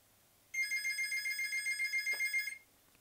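A telephone bell rings in one continuous burst of rapid trilling lasting about two seconds, clear and fairly close against a quiet background.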